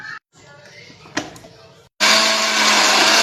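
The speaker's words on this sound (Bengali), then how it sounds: "মিক্সিতে পেস্ট করে নেবো আমি।" Electric mixer grinder blending soaked lentils into a paste, starting up loud and steady with a dense whirring roar that holds to the end after quieter kitchen sounds and a brief knock.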